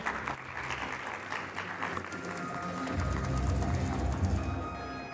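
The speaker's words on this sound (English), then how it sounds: "Round of applause for" Audience applause for a team at an engineering summit, sustained clapping from a sizeable crowd at moderate loudness that swells slightly toward the end.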